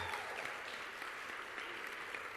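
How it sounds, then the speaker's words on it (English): Audience at a spelling bee breaks into steady applause with some cheering, a dense, continuous clatter of clapping hands filling the room without pause. "You brought your own cheering section tonight."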